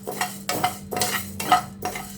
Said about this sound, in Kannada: ಇದು ತೊಗರಿಬೇಳೆ ಹಾಕ್ತೀನಿ. ಇದನ್ನು ಸ್ವಲ್ಪ ಚೆನ್ನಾಗಿ ಫ್ರೈ ಮಾಡ್ಕೊಳ್ಳೋಣ.